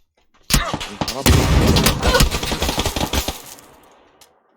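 Heavy PUBG gunfire, a loud burst of rapid automatic shots and sharp cracks that starts abruptly, keeps up for about three seconds and then trails off into fading echoes.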